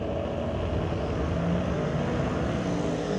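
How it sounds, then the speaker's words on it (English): Drag race car at a raceway doing a tire burnout, a loud, steady, broadband roar of engine and spinning rubber sustained without a break, heard from some distance. "Here we go with the burnout."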